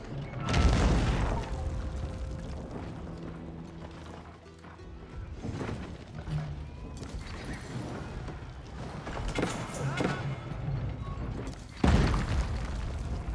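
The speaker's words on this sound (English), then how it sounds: "Keep taking more trebuchet fire." Trebuchet fire during an Age of Empires 4 battle between Ottomans and Byzantines: creaking, ratcheting siege-engine mechanisms and heavy booming impacts recur over a dense, continuous battle din, with louder bursts near the start and end.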